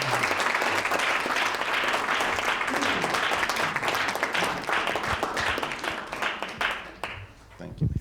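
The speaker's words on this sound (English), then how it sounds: "if you can give a big round of applause" Audience applause welcoming a speaker to the stage at a talk, a full crowd clapping steadily and loudly before tapering off toward the end, with a voice and a few scattered claps after.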